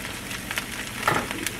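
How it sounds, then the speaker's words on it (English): Vegetables hitting hot oil in a pan, a crackling sizzle with a few sharper pops, close and fairly loud over a brief moment. "the next thing we're going to do is add our vegetables to this oil"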